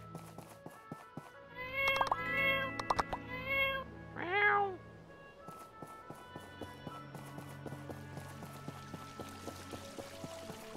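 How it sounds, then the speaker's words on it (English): A cat in the My Time at Portia video game meows several times in a row, clear and close, followed by a longer rising-falling meow, over light game ambience with soft tapping footsteps. "Come here, kitty."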